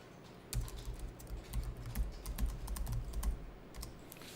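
Quiet, steady typing on a computer keyboard while entering data in an accounting exam practice task, with quick irregular key taps and no voices.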